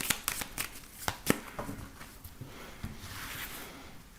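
Tarot cards being shuffled by hand, a series of crisp riffles and slaps close up, with a faint pause of softer handling near the end.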